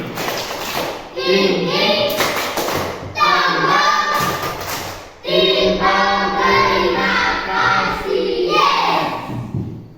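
A class of children performs the rhythmic 'tepuk terima kasih' thank-you clap, loud bursts of clapping and chanting voices in patterned groups, close by in a classroom.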